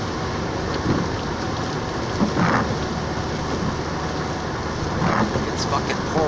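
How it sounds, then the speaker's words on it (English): Heavy rain pours steadily on a car driving through West Dearborn, a constant loud hiss filling the cabin, with faint rumbles that could be distant thunder and a voice talking over it. "It's fucking pouring today"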